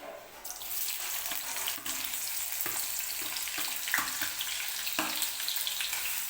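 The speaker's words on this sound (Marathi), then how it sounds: "कांदा व्यवस्थित भाजून घ्यायचा आपल्याला" Sliced onions fry in a pan for a dry mutton curry, producing a moderate hissing sizzle with occasional stirring clicks against the pan.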